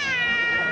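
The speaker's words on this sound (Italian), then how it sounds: "Il gatto Virgola, sì." A cat gives a single short, clear meow, close and fairly loud, with no voices over it.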